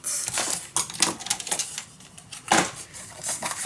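Patterned paper being scored and cut for a handmade mini album, a quick irregular series of crisp clicks and rasping strokes from a paper trimmer, close and light, with a louder burst partway through and no voices.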